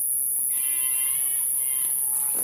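A goat on a village farm in India gives faint, thin bleats with a wavering pitch. They repeat over a couple of seconds against a steady hiss and low background noise.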